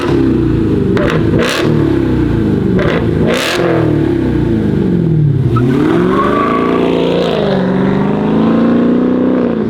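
A Dodge Hellcat at an exhaust shop revs hard, loud and close, with sharp throttle blips early on, then long rising and falling engine sweeps, no talk.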